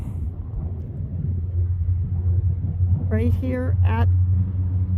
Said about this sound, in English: you can hear the trucks behind me